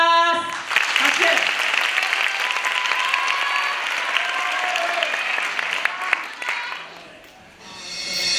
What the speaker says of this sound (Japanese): 18代目ネクサス拍手